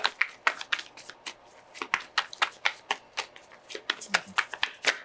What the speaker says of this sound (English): I'm gonna draw the cards first